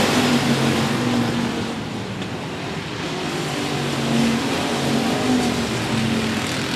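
Stock cars roar around the oval at 105 Speedway, a dense, continuous loud engine drone from a pack of cars running together, with no voices.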